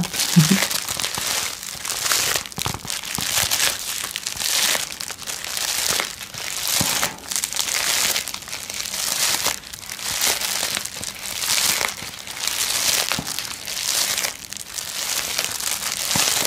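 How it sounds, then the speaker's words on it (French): Bubble wrap crinkles and pops continuously, a dense crackling texture that swells and eases in waves, close up with no talking. "Je vais vous laisser profiter un peu du son du papier bulle."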